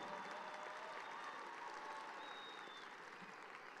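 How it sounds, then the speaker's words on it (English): Graduation crowd applauding for student speeches at a high school ceremony, dense sustained clapping from a large audience, fairly distant, tapering slightly near the end. "So one more time, round of applause for these amazing speeches that we just heard from our students here today."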